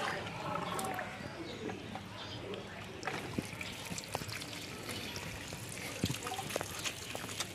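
Water drains from a car radiator as it is switched from well water to coolant, a continuous close pouring and splashing trickle that runs steadily from start to finish.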